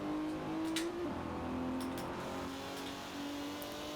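A car engine in Forza Horizon 4 holds a steady, moderately loud drone as it accelerates, with a slight pitch shift partway through and no talking.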